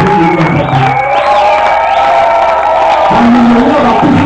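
A church congregation at a Sunday service cheers and applauds continuously, a dense crowd roar of clapping and whoops with a voice rising over it near the end.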